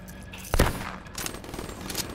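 Gunfire in an online team shooter video game: one sharp close shot followed by a rattle of quieter, rapid shots, all over a busy game soundscape without voices.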